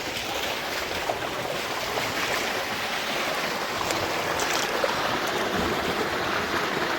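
Buffaloes bathing in a deep village pond in Punjab, with a continuous wash of churning, splashing water heard close and steady, mixed with some wind noise on the microphone.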